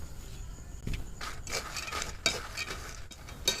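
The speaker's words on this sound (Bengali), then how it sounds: "এবার আমি বাদামগুলো দিয়ে ভেজে নিচ্ছি।" Peanuts are stirred in hot salt in a pan, giving soft scraping, rustling bursts at irregular intervals with small gritty clicks, quiet and close.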